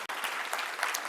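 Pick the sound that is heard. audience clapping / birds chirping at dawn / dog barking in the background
audience clapping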